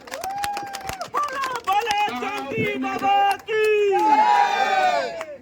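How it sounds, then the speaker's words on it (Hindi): Film crew at a movie wrap celebration clapping and cheering for line producer Jonty: loud whoops and drawn-out shouts from several voices over sharp claps, close and lively. "लाइन प्रोड्यूसर जोंटी के लिए तालियां।"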